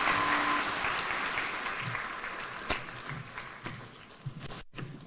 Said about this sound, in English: One more round of applause for His Excellency